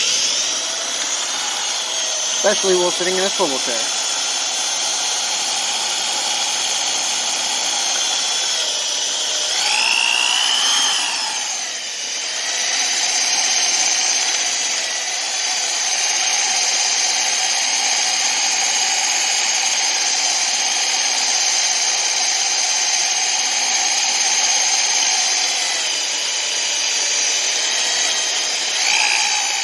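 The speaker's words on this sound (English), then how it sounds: "Drilling with one hand, not the easiest thing on the planet." A power drill boring a hole one-handed into a Gravely walk-behind mower, a sustained high, steady whine with slight pitch shifts and brief dips, close and loud, with someone speaking briefly over it.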